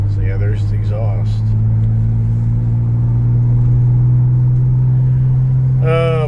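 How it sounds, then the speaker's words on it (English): Steady low exhaust rumble from a Ford Bronco Raptor, loud and constant throughout at idle or cruise, with a couple of people talking briefly over it near the start and end. "there's the exhaust."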